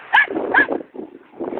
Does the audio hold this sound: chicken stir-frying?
no